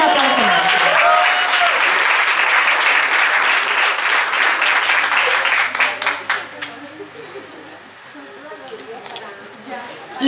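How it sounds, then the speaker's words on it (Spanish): An audience at a regional adult education meeting breaks into loud, sustained applause that fades after about six seconds, leaving quieter scattered sounds and voices. "Un aplauso."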